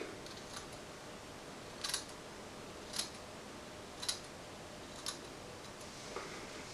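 Scissors trimming beard hair at the sideburn: quiet, close, crisp snips spaced about one per second over a faint hiss.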